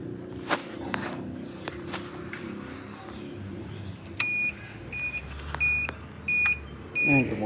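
On a Kawasaki Bajaj CT 125 motorcycle, a newly installed turn signal buzzer gives about four evenly spaced, sharp electronic beeps, preceded by clicks and handling noises.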